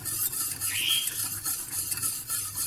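Spoon stirring béchamel sauce in a pan, made from a butter-and-flour roux, with a continuous scraping swirl and a brief rising squeak of utensil against metal, close and steady with no talking.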